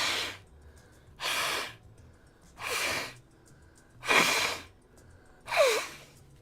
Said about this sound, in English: Hold on, I need to blow my nose.